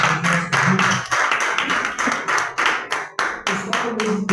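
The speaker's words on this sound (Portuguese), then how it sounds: "aplaude o Senhor Jesus por essa palavra." A church congregation claps in a fast, steady rhythm, with sharp, loud, evenly spaced claps running throughout and a voice speaking faintly underneath.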